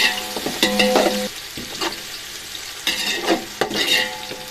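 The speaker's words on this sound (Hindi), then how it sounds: "ये हम डालेंगे इसमें अदरक लहसुन का पेस्ट, और इसको भी पकाएंगे जब तक गोल्डन कलर नहीं आ जाता" Ginger garlic paste frying in a pan while being cooked for an aloo biryani, with loud, close sizzling and repeated bursts of stirring and scraping in uneven waves, with no talk.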